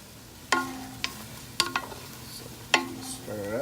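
Squirrel meat with peanut butter and Thai eggplant, cooked Hmong style, stirred as it fries in a pan: a few sharp utensil scrapes and clinks with ringing tones over a low sizzle.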